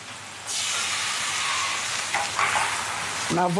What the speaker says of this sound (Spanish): Una vez que el vino y el vinagre estén hirviendo, se lo añadimos a las verduras caramelizadas.